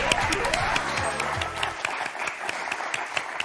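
A French game show studio audience claps and applauds steadily, with dense continuous clapping and a host's voice speaking over it.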